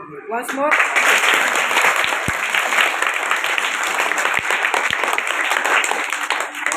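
An audience at a public event claps in sustained, dense applause that stays loud and even throughout, with voices faintly mixed in.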